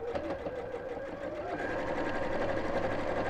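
Close, continuous whirring of a sewing machine runs steadily while stitching a circular fabric pouch, with a faint mechanical hum beneath and no voices.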